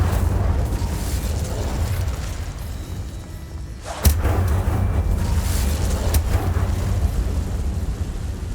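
An Incendio fire spell cast in Hogwarts Legacy lets out a sharp, loud burst partway through, over a steady roaring rumble that fills the whole stretch.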